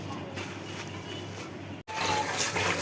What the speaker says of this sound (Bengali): শাকগুলি ভালো করে ধুয়ে নিচ্ছে